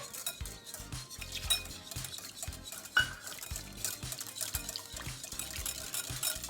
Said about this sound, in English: take 1/2 cup of our milk mixture and whisk it into the eggs really fast